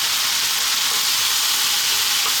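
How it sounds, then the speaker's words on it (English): Cooked chickpeas tipped into a pan of frying ripe tomatoes for a chickpea potato curry (chana aloo), giving a steady, close sizzle and hiss of frying with no talk. "We're now going to add in the chickpeas, the cooked chickpeas."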